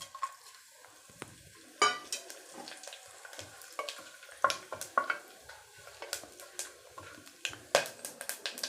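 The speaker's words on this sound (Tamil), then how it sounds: "இப்போ இது எல்லாமே நான் தாளிக்கிறதுக்கு அப்படியே போட்டுக்கிறேன்." Whole spices spluttering in hot oil for tempering: crackling with sharp, irregular pops and spits, steady frying hiss underneath, close by and moderately loud.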